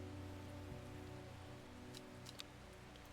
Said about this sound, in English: Looks like it is a rainy day